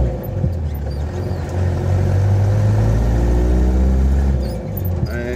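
Light traffic on a main highway through town, cars rumbling past at close to moderate range in a steady low drone with a passing engine swell, no talking.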